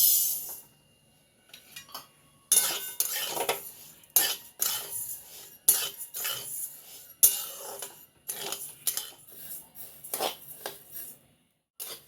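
Rice dry-roasting in a pan for bhajani thalipeeth flour, stirred with a spoon: irregular bursts of dry scraping and grainy rattling with metallic clinks, after a brief quiet start, close and with no talking.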